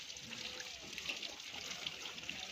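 Water from a pipe trickles and splashes steadily during a child's bath in a hospital bed, a soft continuous flow at low level.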